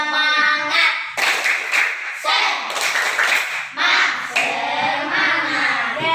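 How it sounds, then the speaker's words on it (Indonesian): Children in a classroom clap a rhythmic spirit cheer in short bursts, with voices chanting along between the claps. The claps are close and loud, broken by brief pauses. "Tepuk semangat."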